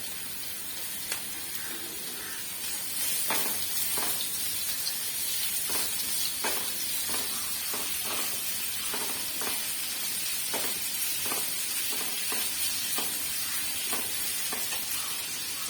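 Vegetables for beef fried rice sizzle steadily in a hot pan, with repeated scraping and stirring knocks breaking through the hiss, close and continuous with no talking.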